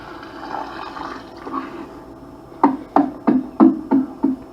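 Simulated intense rainfall on bare tilled soil: a soft watery wash, then six sharp rhythmic splashing pulses of water running off, close and moderately loud, no voices.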